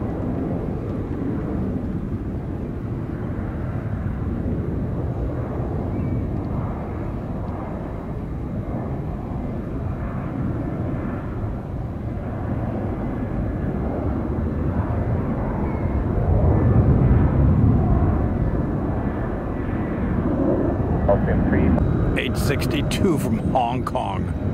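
Jet aircraft at SFO airport, including a Gulfstream G5 and a 747, heard as a steady engine rumble that swells louder midway, with people talking over it.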